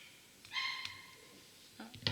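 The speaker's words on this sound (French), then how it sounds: "il y a un chien dans la cage d'escalier." A dog barks in a building stairwell, a couple of short, sharp barks heard indoors at a moderate distance, separated by a quiet pause, with no talking.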